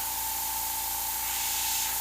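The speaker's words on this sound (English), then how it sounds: "When you spray this one, it's a lot softer." An airbrush sprays thinned paint in a steady, even hiss that carries on for the whole stretch with no talk over it, along with a faint constant tone underneath.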